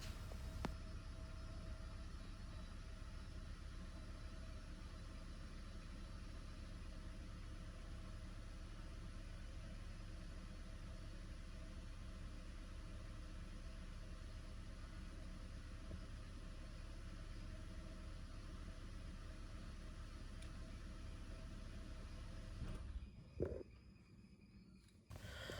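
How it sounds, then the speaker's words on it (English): A high-mileage Toyota Prius third generation idles, a low, steady, even engine drone that holds constant for most of the stretch, then cuts briefly near the end before resuming. "engine is very smooth, no any rough idling or any vibration condition."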